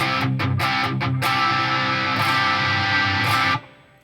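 An electric guitar played through an HX Stomp into a dry cab with no reverb, loud distorted chords with choppy stabs at first, then sustained, cutting off abruptly near the end with no tail.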